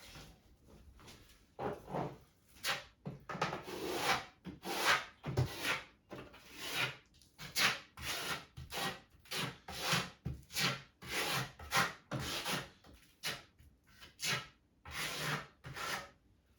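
A V-notch trowel spreads tile mortar, back buttering the board and the tiles for a shower wall, in repeated rasping strokes with brief pauses between them, close and fairly soft.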